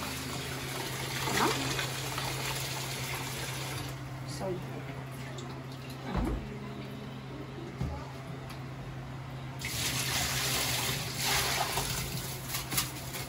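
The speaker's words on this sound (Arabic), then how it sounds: "ونبدا نغسل الرز اهو" Tap water runs and splashes while rice is washed in a home kitchen, a steady hiss that drops away briefly midway, with a few thuds and a short spoken word over it.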